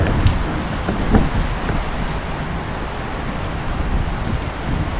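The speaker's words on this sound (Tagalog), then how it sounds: "Kaulan-ulan pa rin" Steady rain falling, a dense continuous hiss with occasional heavier drops and a low rumble underneath, no voices.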